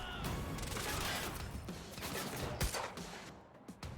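Gunfire in Quantum Break, a 2016 shooter: a dense, continuous barrage of shots and impacts, fairly muffled and mid-distance, with a few sharper cracks near the end and no talk over it.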